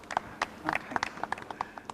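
A church congregation claps during an annual feast Mass, giving a short spatter of scattered, uneven hand claps at moderate distance with no voices.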